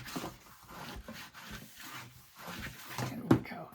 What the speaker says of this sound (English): we will burnish the whole page